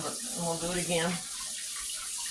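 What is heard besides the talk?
tap water running while rinsing peppers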